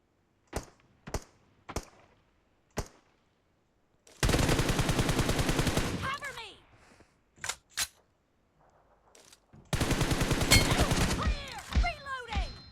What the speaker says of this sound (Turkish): Kerem mükemmel sıkıyor bu ara